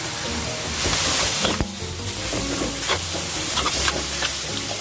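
Fish larb being stirred and seasoned in a pan, with a steady close sizzle and scraping stir sounds, occasional clinks and bursts of hiss, and no talk.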